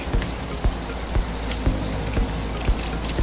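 Steady rain patters on a surface, with sharper drips striking at a regular pace, like drops falling from an edge.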